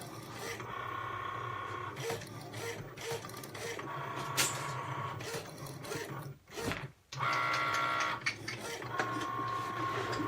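Cricut cutting machine running at a craft table, a steady close mechanical whir with repeating motor tones, brief pauses and a short stop partway through, a voice speaking faintly at times.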